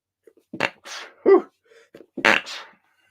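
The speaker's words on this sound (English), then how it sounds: "Jeepers, I need to sneeze." A few short, sharp bursts of breath and throat noise build up to a forceful sneeze, close and loud against an otherwise quiet background.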